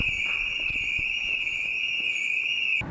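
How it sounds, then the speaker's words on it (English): A building alarm in a city centre screeches with a steady, piercing high electronic tone. It is loud and continuous for nearly three seconds and then cuts off, with faint knocks and shuffling underneath. "As the alarm screeched, we hoped to wait out the expected search on the top floor."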